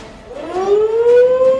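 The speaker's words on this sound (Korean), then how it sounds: "북한 미사일 발사를 가정한 사이렌이 울리자 강당으로 대피하는 어린이들" A civil defense siren sounds for a North Korean missile attack evacuation drill at a Japanese school in Sangam-dong, Seoul, a loud wailing tone rising in pitch and then holding steady, alone with no voices.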